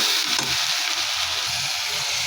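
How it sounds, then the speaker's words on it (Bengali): Spices sizzle steadily in a hot pan, a close, constant frying hiss with faint rhythmic stirring underneath. "এখানে আমি সব মশলা দিয়ে দিচ্ছি।"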